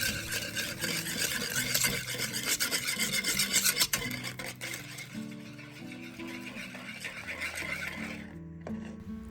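Cupcake batter with cardamom stirred by hand in a bowl, a steady scraping, rasping swirl of the spoon against the sides, close and continuous, with a soft melody playing underneath.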